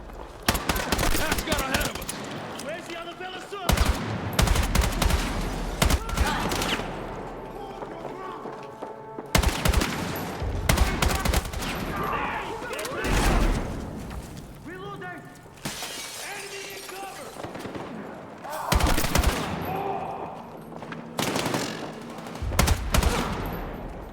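Heavy gunfire and shattering impacts in the video game Battlefield 6, with rapid automatic bursts, thuds and glass breaking in a dense, loud mix, while people talk over the combat.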